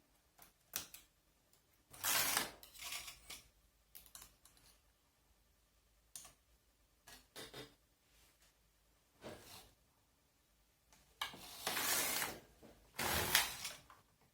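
A knitting machine carriage works a summer sweater in bursts. Sharp mechanical ratcheting and clicking passes come in irregular runs of a second or two, separated by quiet pauses, and some are loud and close.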